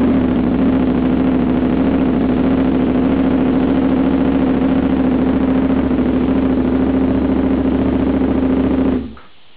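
A KTM 950 EFI motorcycle engine runs at a steady idle, a loud, close and even drone that holds for several seconds before cutting off abruptly.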